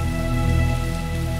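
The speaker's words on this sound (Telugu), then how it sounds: "బయట బాగా వర్షం పడుతోంది" Heavy rain falls outside at night, a loud, steady wash of patter lasting a brief moment, blended with a low sustained tonal hum.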